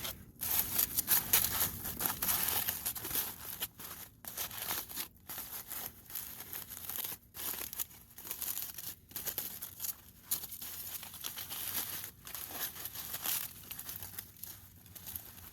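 Aluminum foil crumpled and wrapped tightly in multiple layers around fire tinder, close crinkling and rustling in long bursts broken by short pauses, no speech.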